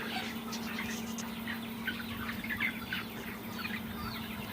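Chickens in a night-time chick brooder give a busy scatter of soft clucks and peeps over a constant low electrical hum.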